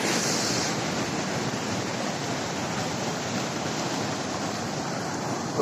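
A large river after heavy rain, a broad continuous roar of rushing water heard close and loud, steady throughout with no voices.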